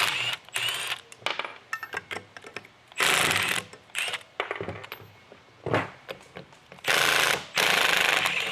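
A Milwaukee power tool with a 19mm socket takes off turbo fittings on a 2011-2016 Ford F-150 3.5L EcoBoost in loud, rattling impact bursts, with metallic clinks and ratcheting between them.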